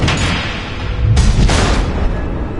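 Missile explosions in a Batman video game: a loud, sustained rumbling blast with heavy low-end booms, swelling again about halfway through, with no talk over it.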